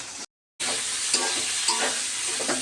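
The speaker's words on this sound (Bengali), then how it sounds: "তেল ছিটছিট করছে দেখুন, ভাজা ভাজা হয়ে গেছে প্রায়" Spice paste fries in hot oil in a home kitchen as a fish curry is cooked, giving a steady close-up sizzle and spatter. Several sharper pops and crackles rise above the hiss after a brief silent gap near the start.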